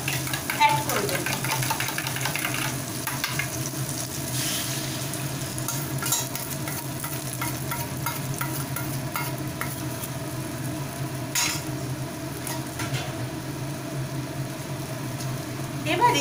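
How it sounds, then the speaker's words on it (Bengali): Beaten egg frying in hot oil in a pan, a steady soft sizzle continuing throughout with small stirring scrapes, while someone talks over it. "এবারে এই তেলের মধ্যে আমি এই ফেটানো বিট করা ডিমটাকে অ্যাড করে দেব।"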